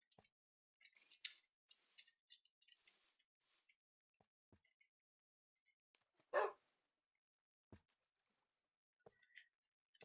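A dog barks in the Minecraft video game, with a single short, clear bark in the middle among faint, sparse game clicks and ticks in otherwise quiet surroundings.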